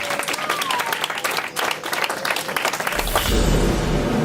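Church congregation applauding loudly in dense, continuous clapping that swells toward the end, with some voices mixed in.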